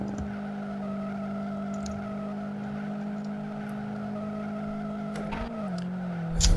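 Tofaş Şahin car in the Live For Speed racing game, its tires squealing in a long sustained skid over a steady engine drone, the pitch sagging near the end before a louder burst.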